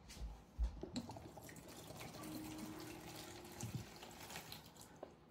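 Water pours into a container for a glycerin leaf-preserving mixture, a soft, fairly quiet trickling stream with a few light clinks and bumps, running steadily for several seconds with no talking.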